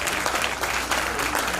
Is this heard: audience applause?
yes